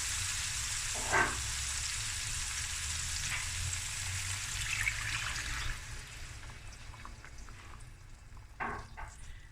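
Two cups of hot water poured into a frying pot sizzle and bubble steadily, a continuous hiss with a few louder splashes.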